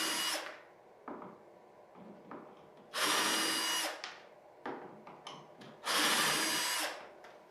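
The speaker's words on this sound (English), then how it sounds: "remove the hinge from the door frame using my cordless drill" A cordless drill whirs in two longer bursts and several short blips, driving hinge screws out of a wooden door frame, close and fairly loud with brief pauses between.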